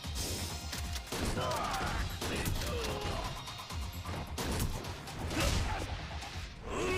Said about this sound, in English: with Kiwami, for some reason, you don't need to aim, you just need to shoot